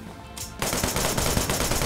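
Rapid automatic gunfire from the action video game Wanted Dead erupts loud and close after a brief quieter lead-in, sustained bursts filling the rest.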